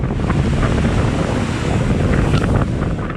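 Strong lodos wind in Istanbul roars steadily into the microphone, a dense, unbroken rush with what sounds like surf churning underneath.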